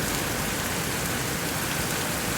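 Heavy rain pours down steadily around a nipa hut during flooding, a dense, loud, unbroken hiss with no voices.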